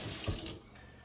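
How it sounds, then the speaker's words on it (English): Running tap water rinsing parts of a Weston meat cuber taken out of soapy water, a close splashing gush that drops off to a quieter trickle within about a second. "Let me rinse these few things off that I have in the soap"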